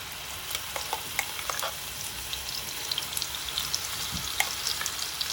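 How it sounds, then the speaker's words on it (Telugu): Onion paste frying in a wok of hot oil, a continuous crackling sizzle peppered with small pops and spatters throughout. "ఆయిల్ వేడయ్యాక ఆనియన్ పేస్ట్ వేసుకుని వేయించుకోవాలి"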